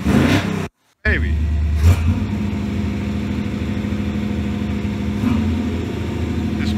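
Car engine fitted with a new electric fuel pump, running loud and close with a brief cut, then a rev and a steady rumbling idle, with a voice talking over it.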